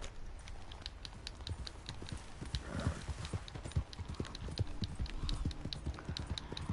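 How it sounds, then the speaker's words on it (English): Horse hooves clip-clop in a steady, quick rhythm in the video game Red Dead Redemption 2, close and continuous throughout with a faint underlying rumble. "And as my horse goes on this perilous journey"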